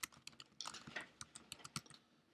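Fingers tap quickly on a computer keyboard, an irregular run of crisp, close key clicks with brief pauses, with no voices.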